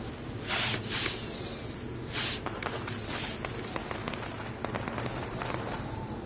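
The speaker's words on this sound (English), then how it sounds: "either way, we'll get to see some cool fireworks" Fireworks going off in the video game WWE 2K20: rising whistles and a string of bursts and crackles, with bigger booms early on and then smaller pops fading out, over steady background ambience.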